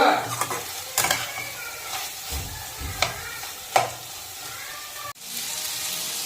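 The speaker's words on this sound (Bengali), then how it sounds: "আলু ভেজে রাখা আলুগুলো দিয়ে দিচ্ছি। দিয়ে ভালো করে নেড়ে কষিয়ে নেব।" Fried potatoes are stirred in a frying pan for a potato curry, with loud clanks and scrapes of a spatula against the pan over a continuous sizzle, close and prominent.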